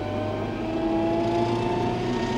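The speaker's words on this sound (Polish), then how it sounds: "Testujemy prędkość maksymalną ciągnika Arbus 4100" Arbos 4100 tractor running flat out on an asphalt road, a loud, steady engine drone with strong harmonic tones holding an even pitch throughout, close and continuous with no talk.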